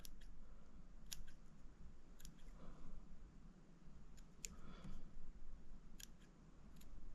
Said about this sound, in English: Trim them legs up a little bit, make them about even